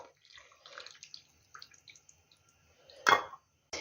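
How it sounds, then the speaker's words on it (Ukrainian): Hot water trickles and splashes close by in short uneven pours into small jars of home-canned vegetables, ending with a louder gush. "Зараз буду заливати гарячою водою кожну баночку."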